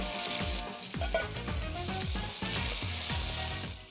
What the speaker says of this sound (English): I let it sizzle at high temperature for a minute, stirring it.